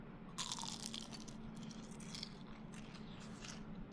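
Air-fried food bitten close to the mouth gives a crisp crunch followed by a few softer chewing crackles, quiet and without talk.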